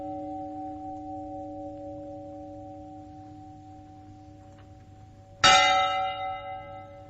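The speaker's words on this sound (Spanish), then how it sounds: "sonando las campanas antiguas de Burgos, Gerardo" Old church bells in Burgos, Spain, strike once loudly near the end, a bright clang with a long ringing decay, after several seconds of steady low humming tones.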